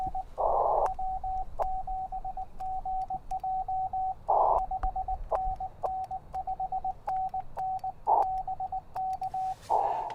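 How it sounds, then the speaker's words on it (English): Morse code keyed as a continuous-wave signal on ham radio: a steady mid-pitched tone beeps in clipped dots and dashes over faint static, with a few louder bursts of interference. "Continuous wave propagation is Morse code. We call it CW."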